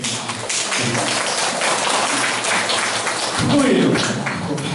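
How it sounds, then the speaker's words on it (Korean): A roomful of people at a healing session for disability support workers claps together in a dense, continuous wash of applause that holds steady throughout. "박수 한번 쳐주세요."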